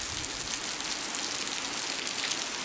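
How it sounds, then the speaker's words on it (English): Steady, heavy Indian monsoon rain pours down with a dense, even hiss of drops hitting surfaces, continuous and close with no pauses. "Raining."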